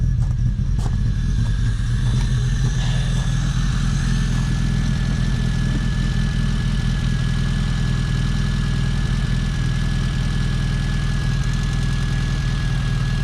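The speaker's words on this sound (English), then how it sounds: "And now the Mini's running." A Mini R53 idling steadily right after a fuel pump repair, its engine a close, continuous mid-pitched hum with a faint knocking texture and a thin high whine over it, running alone without talk.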